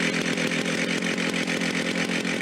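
An old Stihl 029 chainsaw converted into a chop saw runs steadily at high throttle, a loud, continuous buzzing engine drone with a pulsing rhythm and no talk over it.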